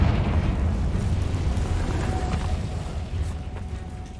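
A fiery Confringo explosion spell cast in Hogwarts Legacy, heard as a sustained, loud rumbling blast that roars steadily for several seconds and eases slightly toward the end.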